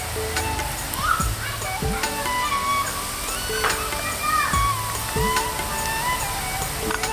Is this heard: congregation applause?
no